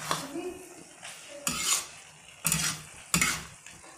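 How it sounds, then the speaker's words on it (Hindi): Paneer bhurji being stirred in a pan to coat it with spices, four distinct scraping strokes of a spoon against metal with light sizzling in the gaps, close and alone with no talk. "तो इसको हम अच्छे से मसालों से कोट कर देंगे।"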